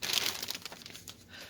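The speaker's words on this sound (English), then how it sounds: "messing with that plastic bag in a second" A plastic bag crinkles and rustles up close for a moment, its crisp crackling loudest at the start before easing to a softer rustle, with no talking.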